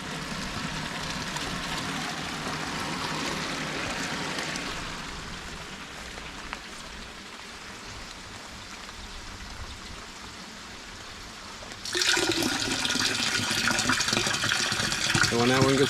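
Rainwater pours into rain barrels as a constant splashing, trickling rush, which grows louder and fuller near the end.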